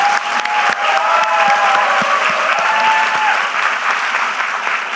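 An audience at a town hall meeting in Jeju claps hard and steadily, a loud, dense wall of applause from many hands with faint cheering mixed in, going on the whole time.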